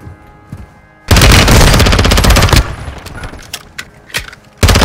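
Rapid automatic gunfire in Call of Duty: Warzone 2.0, a loud sustained burst of dense shots followed by scattered single cracks and another burst starting at the end.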